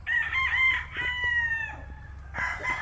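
A rooster, a gamefowl among a farm flock, crows loudly nearby in one long drawn-out call, followed by a second crow starting as the first fades.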